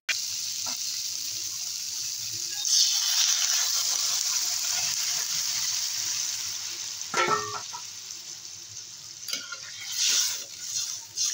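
Pointed gourd and potato curry with lentil dumplings sautés in a pan, giving a steady sizzle and frying hiss with scraping stirs and occasional louder clatters of the spoon, close and continuous throughout.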